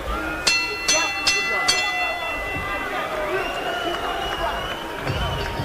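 A bell strikes four quick times to end a boxing round in the David Tua vs Cisse Salif bout, then the arena crowd rumbles and murmurs in a continuous roar under the ring noise.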